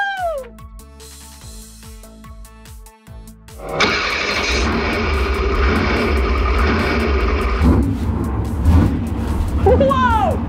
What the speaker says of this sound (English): Whoa! Do you hear that? The engine is so loud!